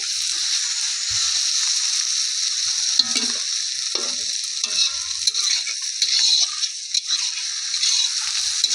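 Spices sizzling in a pan for a home-style meat curry, a constant bright frying hiss with occasional scraping taps of a spatula stirring, close and steady.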